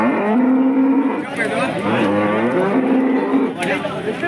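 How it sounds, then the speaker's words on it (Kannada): Cattle mooing loudly and repeatedly at a crowded weekly livestock market for cows, buffaloes and Hallikar cattle at KG Temple, Gubbi taluk, Tumkur district, with long sustained lowing calls close by over a busy background. "ದನಗಳ ಸಂತೆ, ಹಸುಗಳ ಸಂತೆ ಮತ್ತು ಎಮ್ಮೆಗಳ ಸಂತೆ"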